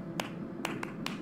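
A voice imitates sperm whale coda clicks in the Eastern Caribbean 1+1+3 pattern: sharp, tapping clicks, faint and close, with a gap after the first and second clicks.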